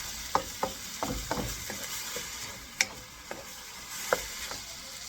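Ground pork frying in a pan for Filipino tortang giniling: a steady sizzle runs underneath while a utensil stirs with sharp scraping clicks at irregular intervals, close and fairly loud, with no talking.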